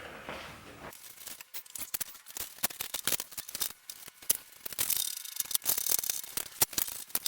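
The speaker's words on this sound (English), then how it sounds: "we're going to take our bolts and attach all of the regular Touratech points" Bolts are fastened onto Touratech tank racks on an Africa Twin motorcycle with a ratcheting tool, giving a close, rapid clicking with short pauses, plus light metallic taps from handling the hardware.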